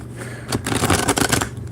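Tarot cards riffle and shuffle in a quick burst of papery flutters and slaps, close up and lasting under two seconds.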